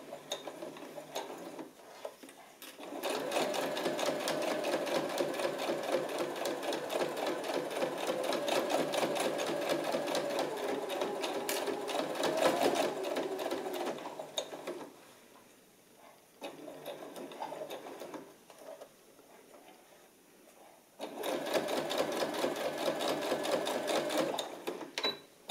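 A sewing machine stitches a pocket flap in long, rapid runs of steady mechanical chatter, pausing midway for a few seconds of quieter handling before stitching resumes, close and loud.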